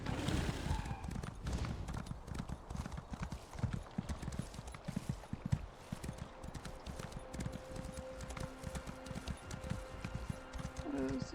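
A horse gallops in the video game ESO Morrowind, with fast, rhythmic hoofbeats throughout and a brief whinny at the start. The hooves are loud and close, with game sounds and a voice mixed faintly underneath.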